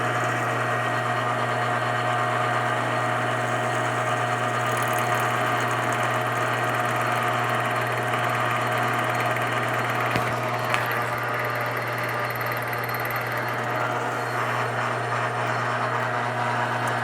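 A lathe runs with a steady droning hum and tonal whine while a boring bar takes a pass inside a rifle muzzle brake for a 300 PRC, continuous and close, with a faint tick partway through.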